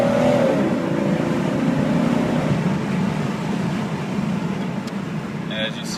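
Jeep Cherokee Classic pulling hard in first gear, a steady loud engine roar that rises in pitch early on and then holds as a broad drone, heard from inside the vehicle.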